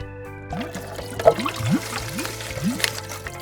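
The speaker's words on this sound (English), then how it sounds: "But first, we need water. Good thing I have a bunch of water. Let's fill it up." Water poured from a container to fill another one, a close splashing trickle with rising gurgling tones as the vessel fills, under a faint background hum.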